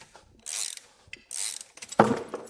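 A dowel pin pulled from a Big Block Ford bellhousing using a puller with washers, close mechanical ratcheting and grinding in two long pulls, then a sharp metallic clunk as it gives.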